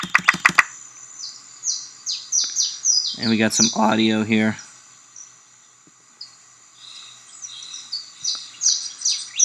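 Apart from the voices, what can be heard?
birds chirping outdoors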